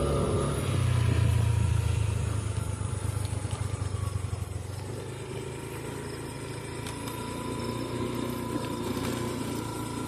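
Motorcycle underway, its engine giving a steady mid-pitched drone with a heavier rumble in the first few seconds that then eases to an even cruising hum, with no talk over it.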